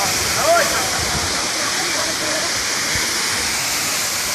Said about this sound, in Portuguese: Filmando aqui a cachoeira Véu da Noiva, aqui na Serra do Cipó